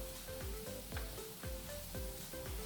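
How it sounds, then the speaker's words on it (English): Mapo tofu with Szechuan peppercorns is stirred in a hot pan, a steady loud sizzle with regular scraping strokes of the utensil about every half second, close and with no talking. "And just give this a good mix."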